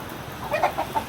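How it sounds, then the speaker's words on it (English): A rooster gives a few short, clucking crow-like calls at moderate distance, brief and bright, over a faint steady background hum. "Roosters."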